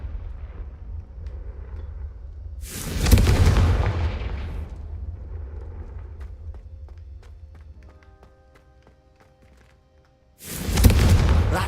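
Confringo fire spells striking candelabras in Hogwarts Legacy, two loud bursting blasts separated by several seconds, each with a fiery crackling decay and quiet ambience between.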